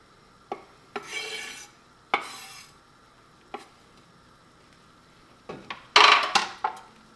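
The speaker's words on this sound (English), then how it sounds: "Then I'm going to stir all that around." Browned ground turkey and vegetables are stirred in a pan: scraping, rasping strokes of a utensil against the pan, each one short and close, with a louder flurry of scraping near the end.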